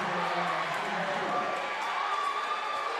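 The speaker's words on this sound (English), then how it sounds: "clapping that you hear." Basketball crowd at a Hendersonville versus Franklin varsity game, a steady wash of clapping and cheering filling the gym while a commentator talks over it.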